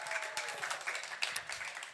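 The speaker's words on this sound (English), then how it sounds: "We clap it up." A small audience clapping at a showcase, quick fairly distinct claps in an uneven rhythm, sparse rather than a full crowd, at moderate volume.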